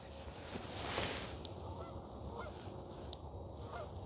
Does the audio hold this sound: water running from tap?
no